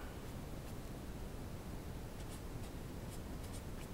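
A pen writes on a surface, with faint, brief scratchy strokes in a quick irregular rhythm over a constant background hiss.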